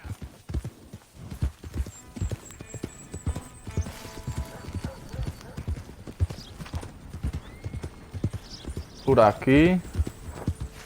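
Steady clip-clop of horse hooves in Red Dead Redemption II on Xbox One trots along in an even rhythm, a horse whinnies near the end, and a voice speaks briefly.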